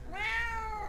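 A house cat named Nala meows once, close and fairly loud, a drawn-out rising-then-falling cry lasting about a second, with no talk over it.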